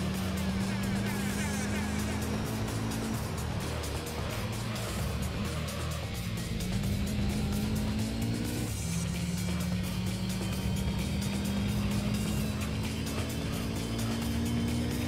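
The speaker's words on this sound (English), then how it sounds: "I can just rev the engine a lot." Engine revving in the Gran Turismo 3: A-Spec racing game, a loud sustained drone with rising and falling pitch sweeps as the revs climb, dip and climb again, steady and close for the whole stretch.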